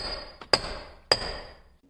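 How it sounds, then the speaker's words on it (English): Light hammer taps on a car transfer case mount on a BMW E46 325xi/330xi, two sharp metallic clinks with ringing decay, close and fairly quiet. "Honestly, I'm just gonna give it a few little taps."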